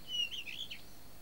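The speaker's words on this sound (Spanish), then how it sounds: "Es el mirlo." A bird sings a short, fluty warbling phrase, faint against quiet outdoor background, lasting about a second.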